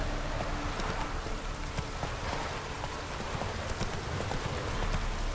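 Horse hooves clip-clop at a steady trot while riding in The Witcher 3, close and even, mixed with a rain-like patter and no voices.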